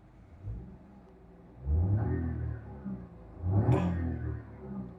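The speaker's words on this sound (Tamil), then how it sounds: "ஸோ இப்போ சின்னதாக ரேவ் பண்ணி பார்ப்போம் இன்ஜினோட நாய்ஸ் வந்து உள்ளுக்குள்ளே எப்படி ஃபீல் ஆகுதுன்னு." Inside the cabin of a Suzuki Swift LXi with a 1.2-litre three-cylinder engine, the motor is revved twice in short swells, a muted low rumble rising and falling that stays fairly quiet.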